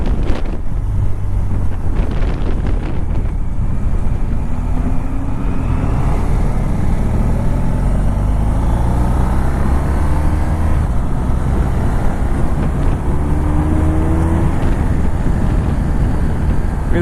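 A 2018 BMW R1200RT with its boxer engine is ridden through steady, strong wind rush, the low engine drone rising and falling with gear changes beneath the buffeting, with no talk.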